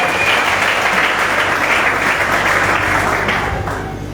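Applause from a crowd at a wedding reception, a dense burst of clapping that holds strong for a few seconds and then begins to fade.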